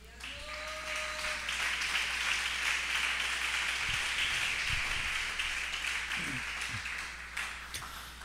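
Church congregation breaking into steady applause during a service, broad continuous clapping that holds and then thins out, with a few stray taps and faint voices near the end.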